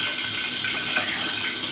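Chicken gravy made with roasted, ground spices in sesame oil, boiling in a pot, a loud, steady, close bubbling and hissing that holds evenly throughout.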